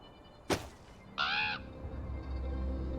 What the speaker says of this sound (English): Bird, you following me?